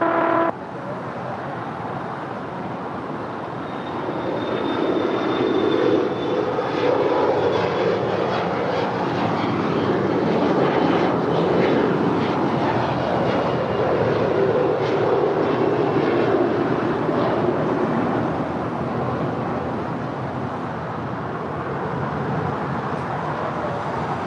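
A JetBlue Boeing 737-800 jet roars down LAX runway 25 right on its takeoff run, a broad steady rumble swelling from the start and holding loud for most of the stretch before easing slightly, with no talk over it.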